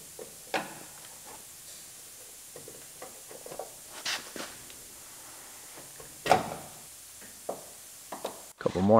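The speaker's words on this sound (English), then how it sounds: "We'll scrape off some of the seam sealer so we can see the spot welds" Intermittent scraping strokes on metal as seam sealer is scraped off a 2006 GMC Sierra truck body, short irregular bursts separated by quiet pauses, close by, ending with a louder clatter.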